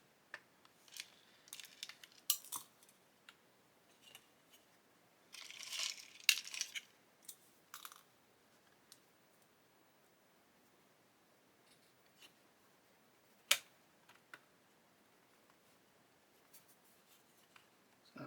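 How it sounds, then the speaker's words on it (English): Eye screws are twisted by hand into a 1/8-scale Pocher Lamborghini Aventador model, producing faint, sporadic clicks and short scraping bursts amid long quiet gaps, with one sharp tick midway. "I'm going to put that screw into there."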